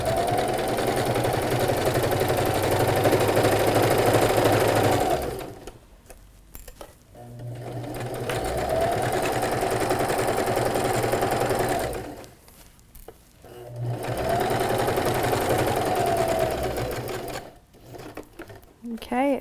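Domestic sewing machine stitching down the side of a fabric bag, running in three sustained bursts with brief pauses between them for repositioning, steady motor hum and needle chatter up close.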